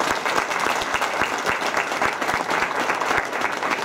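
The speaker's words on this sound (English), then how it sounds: "Won't you welcome her with a hand clap?" Audience applause welcoming Dr. Angela Sims at the 2016 MLK Move the Money Forum: a steady, dense burst of many hands clapping, close and loud, sustained for several seconds with no talking.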